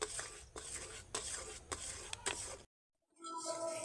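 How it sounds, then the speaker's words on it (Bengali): A spoon drags through thickening raw mango pulp with sugar in a pan, making soft, close scraping strokes in a loose rhythm, then a brief silence before quieter sounds return. "ঘন ঘন নেড়ে রাখতে হবে চিনি রয়েছে না হলে নিচে লেগে যাবে"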